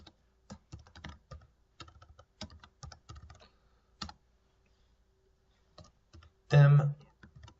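Code being typed on a computer keyboard: rapid, close key clicks in short bursts separated by pauses, ending in a louder clatter.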